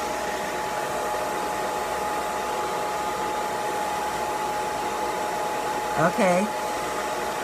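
A Conair bonnet hood hair dryer runs on its low setting over flexi rods in thick natural hair, a steady close airy whoosh with a faint hum, and someone speaks briefly near the end.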